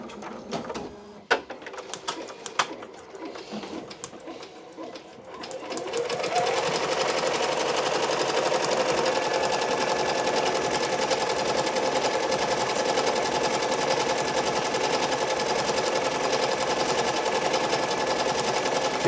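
A multi-needle embroidery machine stitching a three-color left chest logo: after a few seconds of clicks and setup noises it starts up into a loud, steady, rapid mechanical whirring and chattering that runs to the end.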